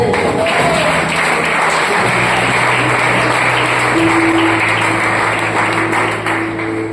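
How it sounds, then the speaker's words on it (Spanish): A church congregation applauds after a sermon, a steady wash of many hands clapping with no break for about seven seconds, loud and close, with sustained tones humming underneath. "recibimos la palabra con un fuerte aplauso"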